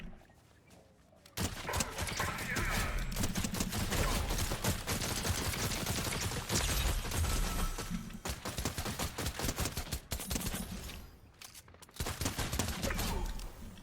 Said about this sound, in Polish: Za nami strzały.